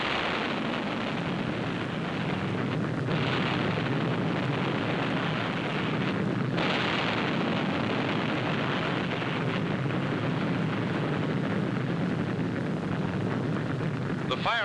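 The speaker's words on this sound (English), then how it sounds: "bombs, rockets, and small caliber ammunition continued to explode with increasing violence" Explosions of bombs, rockets and small-caliber ammunition aboard the burning aircraft carrier USS Franklin, heard as a dense, continuous rumbling roar with bursts near 3 and 6.5 seconds, heavy wind-like noise throughout, no clear talk.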